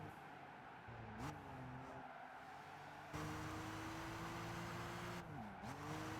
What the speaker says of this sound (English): that's race sound effects